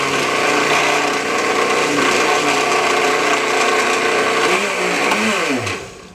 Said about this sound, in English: if you want to operate the blender, the high or the low buttons should be pressed in